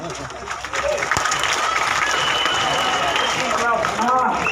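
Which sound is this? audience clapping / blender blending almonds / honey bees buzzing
audience clapping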